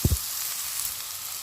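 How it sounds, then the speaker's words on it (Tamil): Onions sautéing in a pan for a chicken samosa filling hiss in a steady, close sizzle, opening with two soft thumps. "இப்போ இந்த வெங்காயம் நல்லா வதக்கிக்கலாம்."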